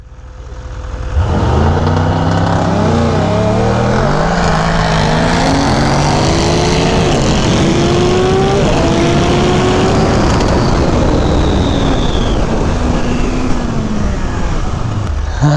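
A BMW S1000RR or Ducati Panigale V4S superbike engine revs hard and close, a loud continuous howl rising through the revs in repeated climbs and shifts for over ten seconds, with no talk over it.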